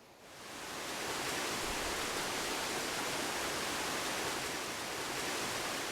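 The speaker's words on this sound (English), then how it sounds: "Oregon Waterfalls. They can be seen and heard and savored." An Oregon waterfall rushing, a dense, even roar of falling water that swells up in the first second and then holds steady, with no voices.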